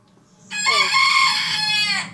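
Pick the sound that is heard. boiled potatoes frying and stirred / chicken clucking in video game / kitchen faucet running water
chicken clucking in video game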